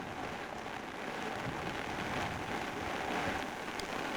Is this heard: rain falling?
yes